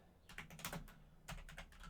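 Quiet, close typing on a computer keyboard, with a burst of rapid key clicks, a short pause, then another run of taps.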